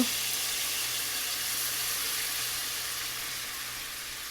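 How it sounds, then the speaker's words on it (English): Cream is poured into a hot pan of Tuscan gnocchi sauce and stirred in. A loud, continuous hiss and sizzle holds steady the whole time, with no voices over it. "we are going to add in our cup of cream. We'll stir it in."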